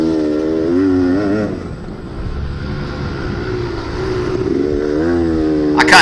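Motorcycle circling a dirt race field at Twilight Farms, engine note rising and falling steadily with revs, fairly close and continuous throughout, no talk over it.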